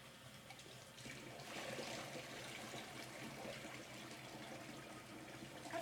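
Tap water runs steadily into a kitchen sink as rice is rinsed, a continuous splashing rush heard close up, with no talking.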